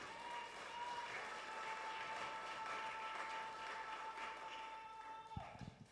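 A church congregation claps steadily in sustained applause, filling the space, then it fades out at the end.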